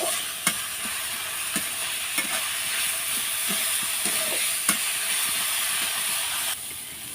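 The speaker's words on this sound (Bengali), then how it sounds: "এক চিমটি হলুদের গুঁড়া দিয়ে আমি ভালোভাবে এটা ভেজে নেব পাঁচ সাত মিনিটের মতন এটা আমি ভাজবো এখন" Banana-leaf kagna with a pinch of turmeric fries over medium heat in a pan, giving a steady loud sizzle and hiss broken by a few sharp spatula scrapes and taps.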